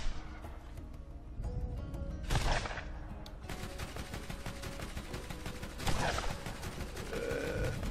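Rapid gunfire in Borderlands as shots hit a van to knock items off it, with bursts of repeated shots, a couple of louder impacts and steady rattling fire throughout, no voices.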